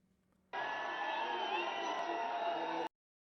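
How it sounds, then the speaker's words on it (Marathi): A large crowd at a protest celebration cheers in a dense, loud, continuous roar of voices and shouts that starts abruptly and cuts off after a couple of seconds. "हा जल्लोष आपण पाहतोय"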